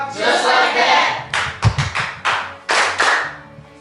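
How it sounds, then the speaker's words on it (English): A classroom of students claps hands in a rhythmic call-and-response pattern, a few sharp close bursts of applause following a brief noisy stretch with voices at the start. "When I clap, you clap? Just like that!"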